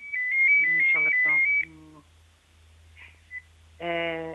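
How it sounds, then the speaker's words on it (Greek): Telephone ringtone with a stepped electronic melody, loud and close at the start, then later bursts of tone during a Greek interview; speech surrounds the ringing. "Το τηλέφωνο."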